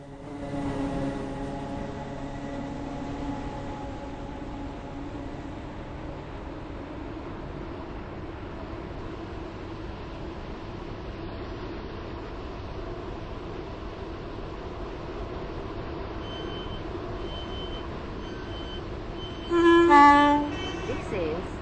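A Roblox Stepford County Railway train rolls into Esterfield station with a low steady engine hum and tonal whine as it slows, ending in a brief bright burst of sound near the stop.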